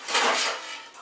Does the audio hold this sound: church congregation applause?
no